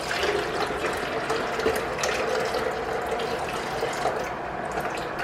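Water runs steadily from a kitchen tap while a bowl is rinsed, a continuous close splashing hiss with faint clinks mixed in and no voices.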